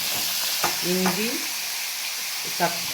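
Green chilies sizzle in a hot pan with a steady bright frying hiss and a few scraping stir sounds, close and continuous, faint voice briefly.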